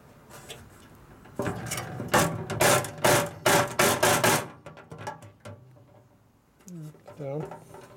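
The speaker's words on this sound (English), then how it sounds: "we're hitting on the tank now" Hammer blows on a Harley motorcycle gas tank from a 1936 RL flathead bobber rebuild: a burst of rapid, close metallic strikes, then quieter scraping, with a voice speaking near the end.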